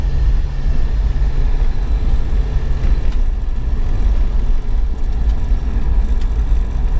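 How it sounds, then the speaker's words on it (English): A used camper van's engine runs during a test drive, heard from inside as a loud, steady low rumble with road noise and no talking. "We'll be also wanting to hear out for the engine if there's any unusual noises."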